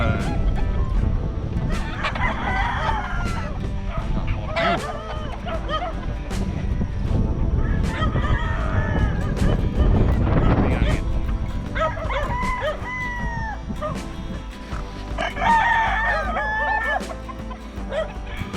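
Roosters and other fowl calling on a farm with a cockerel coop, several crowing and clucking bursts spread over a steady noisy background, moderately close, with some faint voices mixed in.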